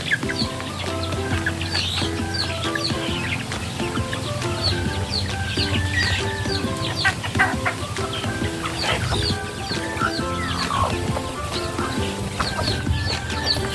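A flock of native chickens clucks continuously while eating together during wet feeding, many overlapping clucks and chirps from several birds, close and busy over a steady farmyard background.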